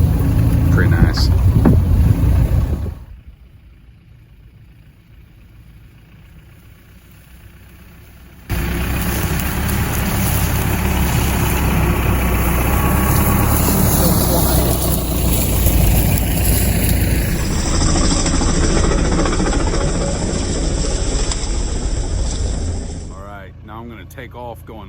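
A Mahindra Roxor off-road vehicle crawling slowly at about 3 mph in four-wheel high, with a steady low engine drone that drops away briefly, then returns steadily and fades at the end.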